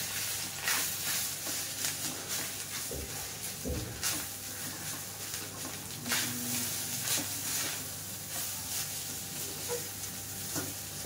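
Peanut powder rice is stirred in a pan, giving quiet continuous sizzling with repeated scraping strokes of the spoon throughout.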